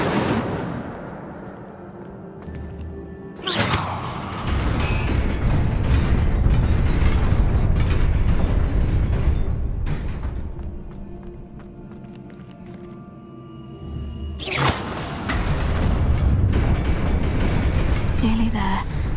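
An Incendio fire spell cast in Hogwarts Legacy: two sudden, loud fiery bursts about eleven seconds apart over a rumbling backdrop, with some vocal sounds in between.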